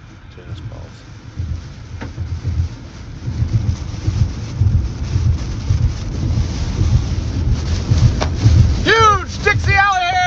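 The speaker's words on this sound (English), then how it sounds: "Got a very large hail coming down, almost to the size of tennis balls." Very large hail near tennis-ball size pounds down in a Dixie Alley storm on a road bridge, a dense rumbling rattle of impacts that builds louder, with someone talking over it and a warbling alert tone near the end.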